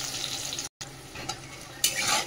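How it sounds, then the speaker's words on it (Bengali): Potatoes fry in hot mustard oil seasoned with salt and turmeric in a wok, a close, steady sizzle with stirring scrapes, broken by a brief gap and a louder burst near the end. "আলুটা ভেজে নিই।"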